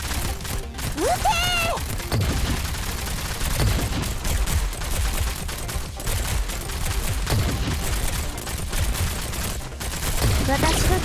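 Sustained volley of rapid gunfire from a Girls' Frontline battle, dense and continuous across the whole stretch, with a brief voice shout near the start layered over the shooting.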